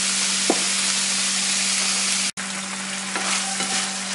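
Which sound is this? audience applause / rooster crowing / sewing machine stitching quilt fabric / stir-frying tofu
stir-frying tofu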